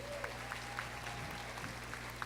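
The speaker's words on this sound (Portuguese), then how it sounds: "queria pedir uma salva de palmas para a doutora Antônia" Light, scattered clapping from an audience at a conference honoring Doctor Antônia, fairly faint over a steady hum, with a few sharper claps standing out.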